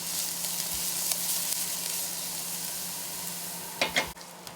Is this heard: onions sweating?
yes